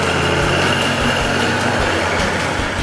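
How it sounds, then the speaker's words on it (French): A John Deere 8210 tractor pulls a 3-furrow plough, its engine running loud and steady under heavy load, with a continuous hum and slight pulsing throughout. "Le moteur donne absolument tout ce qu'il a pour maintenir cette avance."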